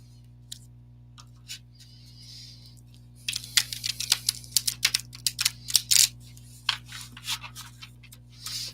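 Playing cards are shuffled in quick bursts of crisp riffling and snapping, with a few light taps first and a steady low hum underneath.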